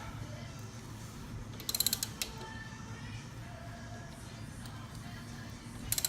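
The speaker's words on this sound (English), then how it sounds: "So I'm just going to keep turning the tap" A thread tap is turned by hand in the footpeg mount holes of a KLR650 motorcycle: quiet, close ratcheting creaks and a few short metallic clicks over a low, steady background hum.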